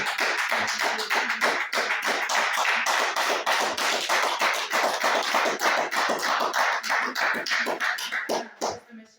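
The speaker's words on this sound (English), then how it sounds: "Keep that round of applause going." Steady round of applause from a congregation at a religious gathering: dense, continuous hand clapping with sharp close claps throughout, tapering off at the very end.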